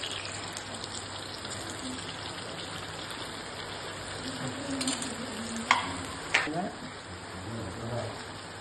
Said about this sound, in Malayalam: ഇതിലേക്ക് ഓരോന്നായിട്ട് ഇട്ട് പൊരിച്ചെടുക്കാം